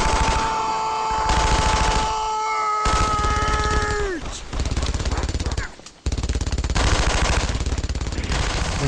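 Sustained, loud bursts of machine gun fire from a German fortification in the World War II shooter Brothers in Arms: Earned in Blood, rattling almost continuously across a smoky battlefield, briefly dropping out before resuming under a steady wash of combat noise.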